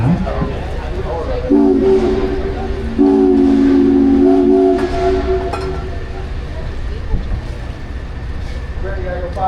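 A steam whistle on the Minne-Ha-Ha steamboat on Lake George sounds in two loud sustained blasts, the second longer, over engine rumble and open-air background noise.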